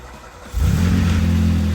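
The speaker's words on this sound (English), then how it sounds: "Jump in there and fire that sucker up, man." A car engine fires up with a sudden low rumble that settles into a steady, close idle after a short stretch of quieter background noise.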